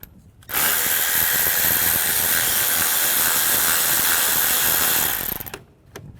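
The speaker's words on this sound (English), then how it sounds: "Use a 7mm socket. Take all these bolts, loosen those all up." A power tool with a 7mm socket loosens bolts while replacing the clutch slave cylinder on a 2005-2010 Chevrolet Cobalt, whirring loudly and steadily for about five seconds between short quiet stretches.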